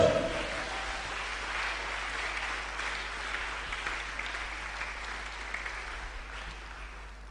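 A church congregation at a Pentecost Sunday service applauds in a sustained wash of clapping that starts loud and slowly fades, with faint voices underneath.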